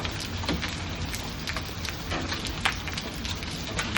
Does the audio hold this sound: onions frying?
no